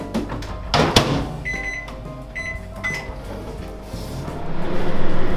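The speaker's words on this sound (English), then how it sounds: "place both trays in the microwave and cook for a further 3 minutes" A microwave oven heating a frozen salmon pasta meal hums steadily with clicks and knocks, a few short electronic beeps, and a louder whirring swell near the end.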